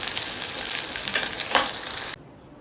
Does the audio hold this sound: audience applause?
no